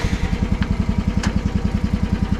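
A Chinese HT10 mini excavator's Briggs & Stratton engine running right after starting, a steady rapid low thumping idle with a slight clatter, close and loud, with two faint clicks on top.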